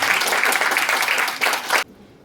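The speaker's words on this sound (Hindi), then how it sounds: "जोरदार तालियों से" Loud, dense applause from an audience at a welcoming session in a Chandigarh hotel, sustained close clapping that stops abruptly into near silence.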